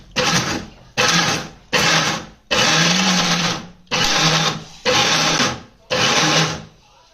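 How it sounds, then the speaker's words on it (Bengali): A blender mincing broiler chicken breast meat for momo filling runs in seven loud bursts, each a steady whirring roar that cuts off abruptly before the next pulse starts. "এখন আমরা এই মাংসগুলো ব্লেন্ডার করে নেব।"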